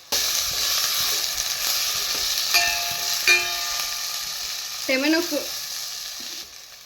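Tomatoes fry in oil for a village-style pepper rasam, a steady close sizzle with a few metallic clinks and a short squeaky scrape of a spoon against the pan.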